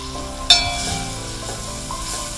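Green chillies and onion frying in a pan for a spicy Karnataka chapati churma, a steady sizzle with a sharp clatter of stirring near the start, close and moderately loud, no voices.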